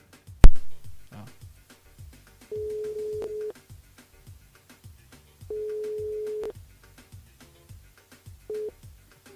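A telephone ringback tone sounds on a returned call during a live radio show, three sustained buzzing rings separated by pauses, with faint background voices and a sharp click at the start.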